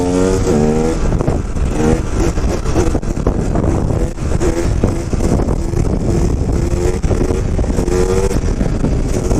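A KTM 250 EXC dirt bike is ridden hard, its two-stroke engine loud and close, revving up and down with rising and falling pitch through gear changes.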